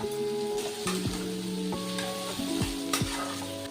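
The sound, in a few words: onions and garlic frying in oil for fish fry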